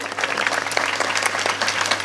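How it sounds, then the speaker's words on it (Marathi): Audience clapping at a Marathi Hindu kirtan by Acharya Amrut Maharaj Joshi, a steady wash of hand claps from a crowd throughout, fairly loud and continuous with a low hum underneath. "इथं तुमच्या टाळ्या पडायला पाहिजे होत्या"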